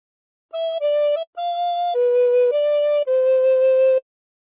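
A recorder plays a short phrase of O Christmas Tree, six clean, breathy sustained notes in steady succession with brief gaps, close and alone.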